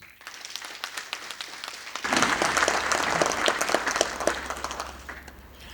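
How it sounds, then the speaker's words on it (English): Audience applause at an engineering iron and steel association's 80th anniversary celebration in Zimbabwe, starting as scattered claps and swelling into dense, steady clapping from a large crowd after about two seconds, then tapering slightly. "May we, just for the sake of it, give this association's 80th anniversary a round of applause."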